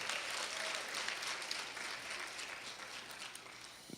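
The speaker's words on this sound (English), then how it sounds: "Y'all give her another round of applause" A crowd applauds a pageant contestant at the 19th Annual Inner Beauty Pageant: a steady, dense wash of clapping that stays even throughout, heard from some distance and fairly faint.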